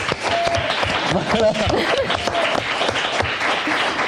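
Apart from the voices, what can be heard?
audience applause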